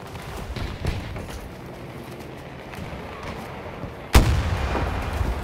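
A Recoilless M5 rocket launcher fires in the video game Battlefield 2042 during a 128-player Breakthrough battle, one loud booming launch cutting sharply through steady distant gunfire and explosions.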